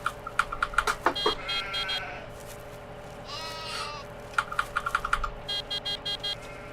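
Sheep in a farming video game bleat in repeated short, clustered cries over a low, steady engine hum on a farm at the start of winter, the calls coming in bursts with quieter stretches between.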